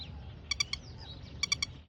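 Small birds chirp near a calm lake, giving two quick bursts of three bright, clear notes each, over a quiet outdoor hush with a faint low background rumble.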